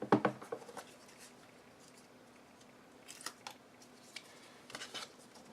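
Scissors snipping paper for a handmade sticky note and notepad holder: a quick burst of close crisp cuts at the start, then quieter scattered snips and rustles later.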